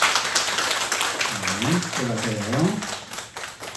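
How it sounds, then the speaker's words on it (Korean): Church congregation clapping to bless newlyweds during a Sunday worship service, a dense continuous patter of applause with a voice speaking briefly over it. "인사할 때 박수로 한번 축복해 주시면 감사하겠습니다."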